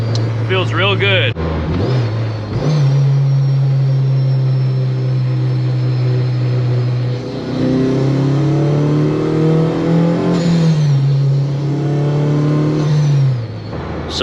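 Honda Civic with a swapped K20 engine accelerates from inside the cabin, a loud steady engine drone climbing in pitch through long pulls, with a brief shift dip early on and the engine note easing near the end; a person talks over it.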